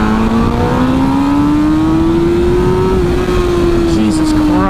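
A 2007 MV Agusta F4 1000R motorcycle pulls hard in second gear. Its loud, close engine note climbs steadily in pitch, then levels off near the end under constant wind rush.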